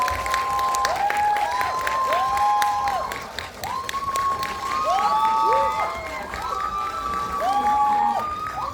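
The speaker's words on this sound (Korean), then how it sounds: "큰 박수 부탁드립니다" A crowd at a film Q&A screening of Exhuma with actor Choi Min-sik and director Jang Jae-hyun applauds loudly, mixed with excited high-pitched shrieks and cheers that rise and fall throughout.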